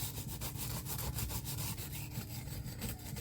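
A small knife is sharpened freehand on a Norton India stone to remove tiny nicks near the blade tip: a steady run of quiet, close rasping strokes in an even back-and-forth rhythm, with no voices.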